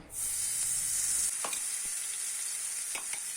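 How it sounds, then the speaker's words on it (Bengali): Onion and garlic paste frying in a little oil for a fish curry, a steady bright sizzle running throughout with a few soft scrapes of stirring, close and loud, no talking. "সেই পেঁয়াজ রসুন একসাথে করা পেস্টটা দিয়ে দিচ্ছি এখন"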